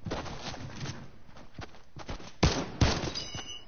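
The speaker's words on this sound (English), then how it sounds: "they're shooting at you" Gunfire in a Wild West multiplayer video game, a few sharp distinct shots standing out over softer footsteps and hoof-like clopping, moderately loud and spaced apart.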